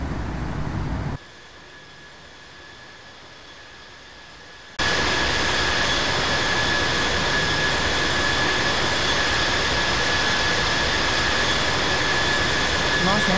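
Boeing 777-200LR jet engines spooling for takeoff at Los Angeles in the Infinite Flight game, a loud steady roar with a high whine that drops briefly, then surges back to full power.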